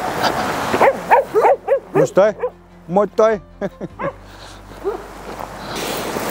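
Dogs bark and yip in quick bursts at a dog ranch beside a forest, close and loud, followed by a lull with faint background noise.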